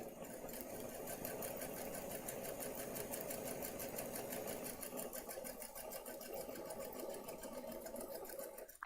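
A sewing machine stitches patchwork with a steady, even, fast whirring hum that runs close and continuous throughout, ending in a brief louder knock.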